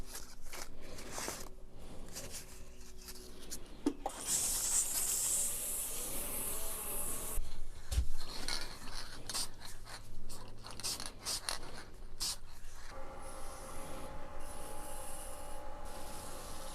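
Turned wood for a ball-and-vase piece is sanded with 600 grit paper on the lathe, a soft steady rubbing hiss over the hum of the spinning work, close and fairly quiet, with a few brief knocks.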